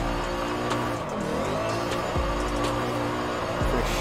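A 1000-horsepower V8-swapped 1930 Bentley drifts at around 90 mph in Forza Horizon 5, its engine droning loud and steady with brief tire squeals, continuous throughout.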